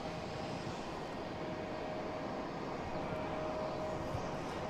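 A WestJet Boeing 737 airliner bound for Calgary at Boston Logan rumbles steadily in the distance, a constant broadband engine roar with a faint whine held throughout and no voices over it.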